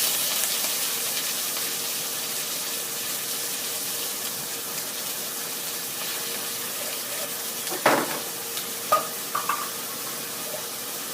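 Small white anchovies stir-fried in a pan give a steady broadband sizzle and hiss, with a few sharp utensil clinks and scrapes near the end; no one speaks.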